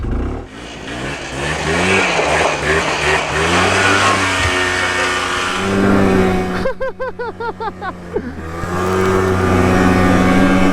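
A Top Quad Trailblazer ATV engine runs close by in winter, its pitch rising and falling through several revs, then a quick series of short choppy blips before it steadies into a loud, even drone.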